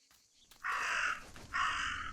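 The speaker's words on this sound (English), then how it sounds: "Gotta follow the Raven." A raven in the psychological horror video game Martha Is Dead gives two loud, harsh caws in succession, close by, with a brief gap between them and no talking over them.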